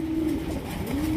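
Pigeons coo with a steady, rolling call at a pigeon farm where the birds are kept in large cages; the coo sits close and clear over a light background hum.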